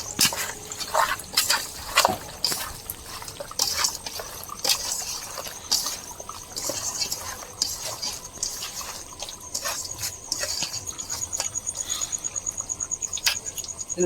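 Vegetables stirred with mustard oil in a pan, a stretch of wet clacking, scraping and spoon-on-pan knocks with a soft sizzle underneath, close and irregular, turning into a rapid steady tapping toward the end.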